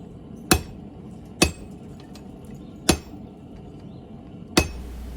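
A hammer strikes a chisel on a forge workpiece while a wall hook is made. Four sharp, ringing metallic blows land about a second apart, close and loud against a quiet workshop background.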